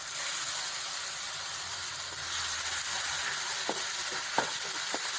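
Ground ripe tomato paste sautéing in a pan with chickpea curry masala for Kerala kadalai curry gives a steady close sizzle with a few sharp spatula clicks near the end, no talking.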